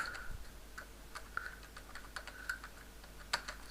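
Computer keyboard being typed on, a faint, close series of quick, uneven key clicks over a quiet room hum.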